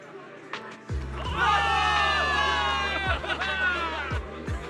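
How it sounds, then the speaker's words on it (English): A crowd of soldiers cheering in Zenless Zone Zero, a swell of shouts and whoops rising after a quiet start and holding over low rumble, with a few sharp thuds. "Give it up for yourselves, soldiers! Cheer for victory!"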